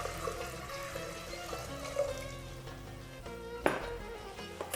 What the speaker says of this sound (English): We will start by adding in 1 liter of water to the pot.